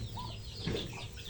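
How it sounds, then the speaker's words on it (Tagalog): A bantam chicken, a young bird kept as a farm pet, gives a few soft, close clucks. The clucks sit low against a steady background hiss, with no talking. "Ito yung bantam ko na manok."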